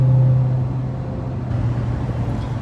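A Dodge Demon 170 accelerating hard with its tires slipping and spinning gives a loud, steady, low engine roar with a constant droning tone that stays strong throughout, a close, dense rumble with no talking.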